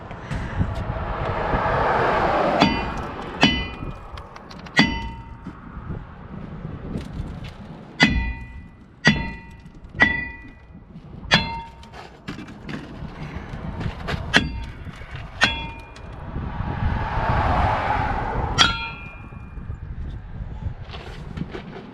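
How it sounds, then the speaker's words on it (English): Hammer blows ring out on the metal of a Ford F450, a dozen or so sharp clanging strikes at irregular intervals. Scraping and rustling between hits, fairly close. "that's why I bought this sledgehammer"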